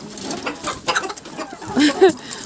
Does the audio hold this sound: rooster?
yes